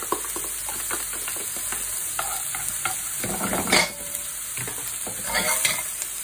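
Marinade hits a hot wok of scallops and shrimp with honey and ginger, crackling in a steady close sizzle as the food is stirred and scraped, with a few louder frying bursts.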